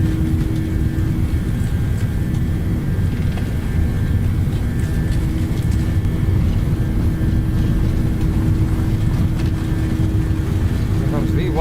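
Airliner jet engines roar steadily and loudly through a takeoff roll in the X-Plane 11 flight simulator, the 737 ZiboMod, with a constant low rumble and whine and speech under it.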